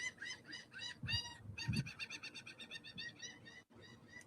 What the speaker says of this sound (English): Did you hear the birds?